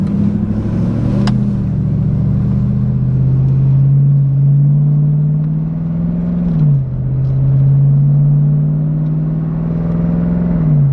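Supercharged V8 with a true-dual exhaust, heard from inside the car with windows up while cruising: a steady, loud low drone that rises gently, dips briefly, then holds again.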